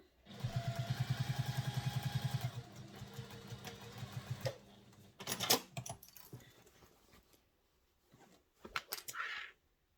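A sewing machine runs a steady stitching burst across the bottom of a handbag, then slows and stops, followed by fabric handling, clicks and a second short whir of the needle, close by with no talking.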